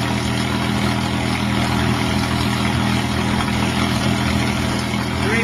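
P-51 Mustang piston aircraft engine running at Ukiah Airport, a loud, continuous low rumbling drone with steady intensity, heard close and alone without talk.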